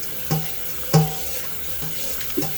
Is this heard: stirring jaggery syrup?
no